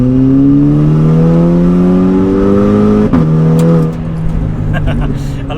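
A 435 bhp VW Golf GTI engine revs loudly and steadily climbs in pitch while accelerating in second gear, with a brief gear-change dip midway before pulling on again, voices talking over it inside the car.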